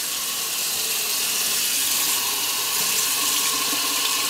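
Hot water rushes steadily from a tap into a can in the Cooking Mama video game, a continuous hissing pour that holds an even loudness throughout with no voices over it.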